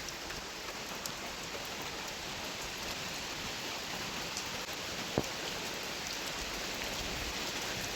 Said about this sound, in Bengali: আর টিনের চাল থেকে আমাদের বৃষ্টির পানি পড়ে।